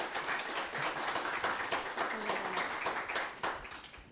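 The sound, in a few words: audience applause for a speaker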